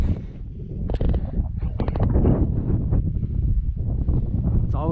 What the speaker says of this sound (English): It's always windy on the top.